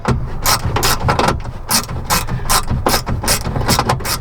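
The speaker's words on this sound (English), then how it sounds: "I'm going to crack the bolts loose." A ratchet wrench cranks on bolts of a car part in a junkyard, loud close bursts of rapid clicking repeating in quick strokes, with brief pauses between each run.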